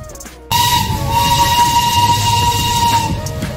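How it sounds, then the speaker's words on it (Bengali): A Darjeeling toy train on a hill railway between Darjeeling station and Batasia Loop sounds a long steady whistle over loud rumbling running noise, near and continuous after a sudden onset. "এই টয় ট্রেন"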